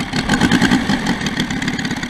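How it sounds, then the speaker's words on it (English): A Saito FG90 four-stroke model engine on a scale Corsair RC aircraft idles nearby, a loud, even, throbbing putter with a steady pulsing rhythm and no voices over it. "We'll just do a walk around with it idling because it's cool factor 10"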